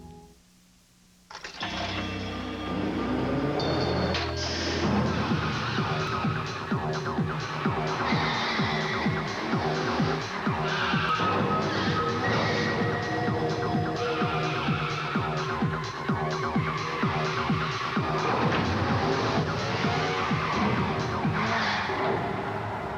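A 1994 French-language TV ad for the new Hyundai Accent car, with a loud, continuous engine and tire-skid soundtrack that runs unbroken for about twenty seconds after a brief quiet start.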